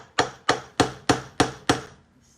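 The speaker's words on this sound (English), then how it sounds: "And it says to hit it with a hammer, so I have a hammer." Six sharp hammer strikes drive a rivet setter into a bucket bag, evenly spaced and loud, each impact ringing briefly before the next, with no talking over them.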